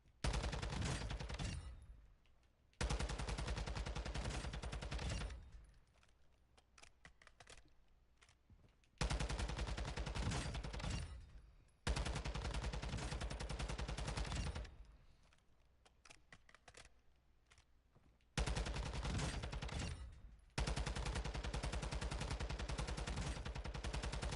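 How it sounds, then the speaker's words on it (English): Loud automatic gunfire in Call of Duty DMZ, fired with no muzzle device, comes in four long sustained bursts separated by short quieter gaps, with no talking. "So we're going to shoot this guy at 30 meters and 20 meters with no muzzle device"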